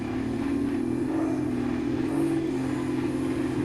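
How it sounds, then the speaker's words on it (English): A car engine revs in the Russian Car Driver video game, producing a loud, steady drone that holds through the whole stretch with no voices over it. "The car is too loud, you can't hear it."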